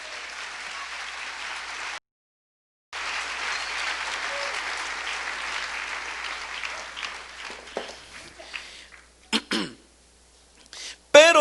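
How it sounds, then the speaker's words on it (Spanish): Church congregation applauding, a steady mass of clapping that cuts off briefly then resumes for several seconds before fading, followed by a few coughs and throat clearings. "Dele un aplauso."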